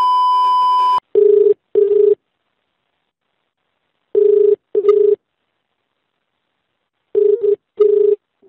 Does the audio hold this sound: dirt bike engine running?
no